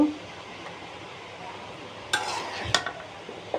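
Fried vegetable bhaji stirred in a pan, a soft background of faint sizzling broken by a couple of sharp utensil scrapes and clinks against the pan near the end.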